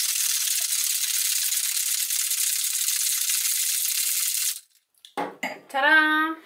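A cocktail shaker rattles steadily with ice while a gin sour is shaken, a loud continuous clatter lasting several seconds up close, then stopping abruptly, followed by a few clinks and a brief voice.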